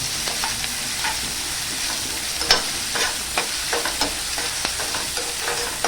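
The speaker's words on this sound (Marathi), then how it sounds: "आपण त्यात कांदा टाकून घेऊया ओली मिरची पण टाकूया हे ना थोडं नरम होईपर्यंत परतून घेऊया" Onion and green chilli sautéing in hot oil for a wild monsoon vegetable dish, a continuous sizzle with frequent scraping and clinking stirring strokes, moderately loud and close.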